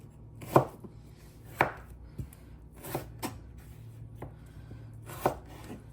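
A knife chops potatoes into wedges on a cutting board, with a handful of sharp, separate thunks spaced unevenly over a quiet background hum.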